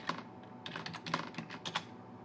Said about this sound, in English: let me just type in Funimation Ergo Proxy